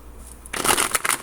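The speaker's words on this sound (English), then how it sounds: "So let's go ahead and shuffle." A deck of tarot cards riffles and shuffles close up in a short, crisp burst of rapid fluttering snaps after a moment of quiet.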